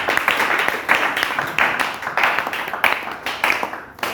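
A church congregation claps together in a steady, rhythmic beat of moderate loudness, the applause continuing evenly throughout with no speech over it.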